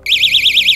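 A lie detector device beeping, a single loud, shrill, warbling electronic tone with a rapid regular pulse, lasting under a second.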